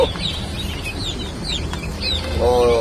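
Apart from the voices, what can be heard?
chicken clucking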